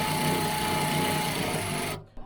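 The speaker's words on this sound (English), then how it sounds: "I'm gonna tighten this down with the ratchet for now" Milwaukee M12 FUEL 1/2 inch cordless ratchet tightening a bolt, a continuous high whirring motor run that stops abruptly near the end, followed by a faint clack.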